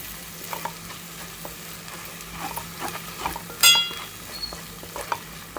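Masala capsicum curry with salt and coriander powder frying in a pan, a steady low sizzle with light stirring scrapes and one brief sharp metallic clink midway.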